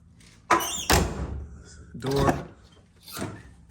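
A 1978 Chevrolet Malibu's car door shuts with a couple of solid thunks, close and distinct, while someone talks between and around the impacts.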